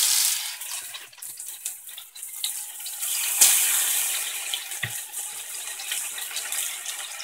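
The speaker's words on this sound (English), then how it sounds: "I have a little oil in there, so I'm gonna add the salmon to the pot." Salmon sizzling in a hot oiled skillet, a steady close hiss and crackle of searing fish that carries throughout, with a brief sharper spatter partway through.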